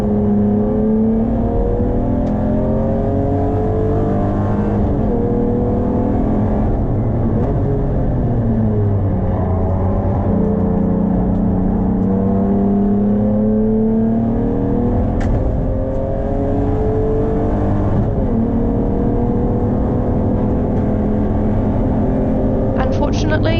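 Race car engines at the ERC Taupo track, a loud, continuous drone with rising and falling revs as cars accelerate and pass, including an MG, while a voice talks over the noise.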